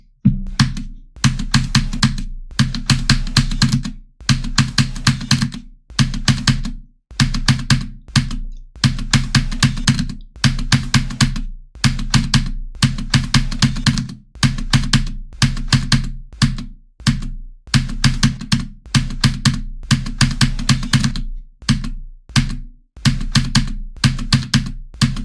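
Corsair K70 mechanical keyboard clacking steadily during a game session, dense bursts of rapid keystrokes separated by brief pauses, close and loud with no voices.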